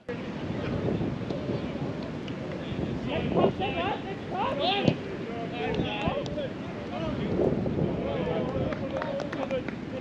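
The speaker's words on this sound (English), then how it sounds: "I wasn't lying when I said it was seriously windy" Strong wind buffets a microphone on an outdoor football pitch during a match, a steady loud roar with gusts, while voices and shouts from players carry underneath throughout.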